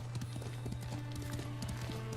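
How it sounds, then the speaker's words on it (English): Rhythmic hoofbeats of a galloping horse in the video game Ghost of Tsushima, a steady fast clip-clop under a humming game soundtrack, moderately loud throughout. "I want to see how the horsey moves"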